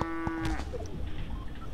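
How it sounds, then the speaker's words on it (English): An in-game cow in Fortnite lets out a single loud, drawn-out moo, followed by thumps and bouncy game noise with no talking. "just turned into a cow that just bounces along"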